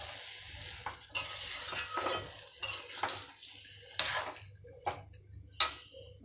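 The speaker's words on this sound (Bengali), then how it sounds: "এবার এটাকে একটু নাড়িয়ে দেব" Ghugni is stirred in a pan over a low flame, with repeated close scrapes and clinks of a spoon against metal in an uneven rhythm over a quiet, soft sizzle, no talking.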